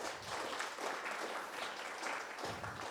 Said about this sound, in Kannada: ಜೋರಾಗಿ ಚಪ್ಪಾಳೆ ಹೊಡಿಬೋದು.